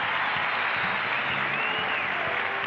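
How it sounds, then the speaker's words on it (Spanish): An audience on a televised dance show applauds the dancers with dense, steady clapping that holds at an even level throughout the brief stretch. "Un aplauso para ellas."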